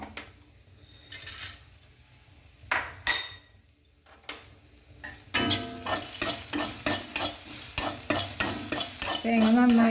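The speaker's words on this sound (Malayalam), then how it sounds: "തേങ്ങ നന്നായി ചുമക്ക വറുക്കണം." Grated coconut dry-roasting in a pan with curry leaves and black pepper gets stirred with a spoon, a few scattered scrapes first, then steady rhythmic scraping strokes over a soft sizzle.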